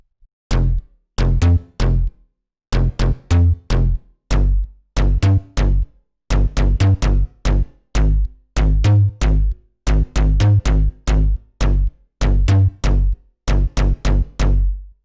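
Bass drum preset from an STMPD-style sample pack, punchy kicks with a sharp attack hitting loud and close in a fast, uneven repeating pattern, alone for the full stretch with short gaps between phrases.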